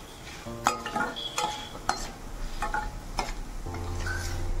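Chana dal, cumin and coriander seeds dry roasted in a pan for a Telugu stuffed brinjal masala curry: repeated close scraping and stirring strokes with metallic knocks against the pan over a steady background hiss; no talking.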